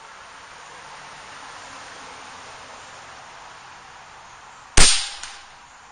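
A single sharp crack from an Air Venturi Avenger .25 air rifle firing late on, standing out loud and alone against a steady background hiss, with a brief tail afterward.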